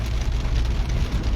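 Steady heavy rain with wind in a rural area around Halvad, a continuous dense hiss and low rumble throughout, no distinct thunderclap standing out and no voices.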